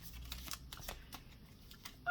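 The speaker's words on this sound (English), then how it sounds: "So I'll just do one more quick shuffle" Smith-Waite tarot cards being shuffled quickly, a soft papery riffle of repeated flutters and light taps at close range, fairly quiet, with no voice over it.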